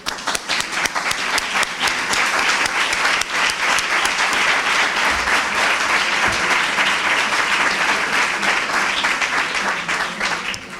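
A conference audience breaks into sustained applause for teachers, dense clapping from many hands filling the hall at steady loudness throughout, with a faint voice briefly underneath.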